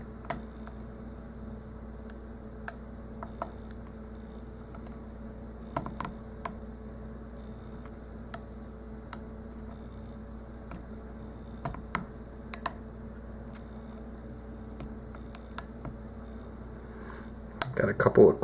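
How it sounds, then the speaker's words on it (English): A lock pick works the pins of an American Series 10 padlock, producing faint, scattered small clicks and ticks at an irregular pace over a quiet background, with a louder rustle at the very end. "Got a couple of clicks out of pin 3 there."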